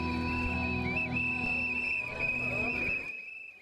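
Whistles blown by protesting bus drivers at a union demonstration in Jonquière, a sustained shrill tone with a brief dip, over crowd noise, cutting off near the end.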